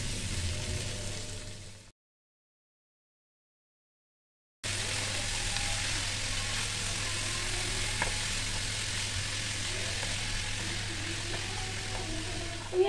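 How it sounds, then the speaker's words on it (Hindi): Mutton keema and spinach fry on high flame, a steady sizzle with scraping stirring under a low hum, cut by a stretch of silence before the frying resumes. "इसके अंदर पालक साग ऐड करूंगी और हाई फ्लेम पर 1 से 2 मिनट उसे अच्छे से चलाते हुए मिक्स कर लूंगी"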